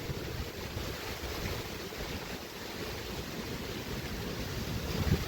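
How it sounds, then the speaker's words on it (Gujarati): Strong storm wind during an unseasonal summer rain and windstorm over farm fields, roaring steadily with heavy microphone buffeting and a broad rushing noise that swells slightly toward the end, with no voices. "ફૂલ પવન ઉડે છે અત્યારે."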